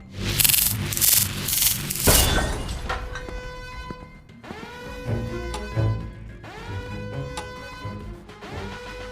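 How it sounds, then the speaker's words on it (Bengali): A laser drill in an animated detective cartoon starts with a coarse, grinding rush, then shifts into pitched whines that rise and fall repeatedly, moderately loud throughout. "লেজার ড্রিল সেট আছে"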